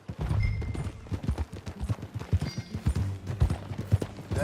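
Horse hooves clip-clopping at a walking pace in Red Dead Redemption 2, steady close thuds in an uneven four-beat rhythm, with faint background sounds and no clear speech.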